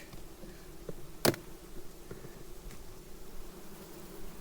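Honeybees buzzing around a hive frame while a beekeeper works the colony in autumn, a faint steady hum close by with one sharp click partway through.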